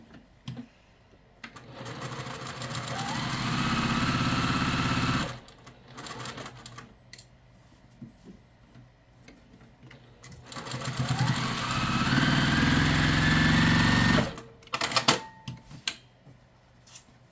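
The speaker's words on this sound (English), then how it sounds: "I know as I'm sewing it that it will be exactly where I want it" Sewing machine stitching pieces of quilt fabric, running in two long, steady bursts of rapid whirring clatter separated by a quiet pause, with handling clicks at the end.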